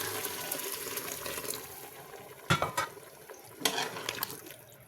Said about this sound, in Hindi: अब इसके अंदर मैं गरम पानी शामिल करूँगी